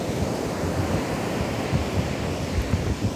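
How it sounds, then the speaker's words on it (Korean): Heavy ocean surf roaring continuously at a beach during Typhoon Maysak, at night, with wind buffeting the microphone, waves crashing and eroding the sand in rough, stormy conditions; no voices. "파도가 장난 아닙니다"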